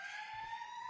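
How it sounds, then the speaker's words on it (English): Fire alarm or siren sounding as a steady high electronic tone with a slight upward drift, faint and continuous through the moment, with no talk over it. "a fire alarm, of course, or some type of siren goes off the minute I say his name."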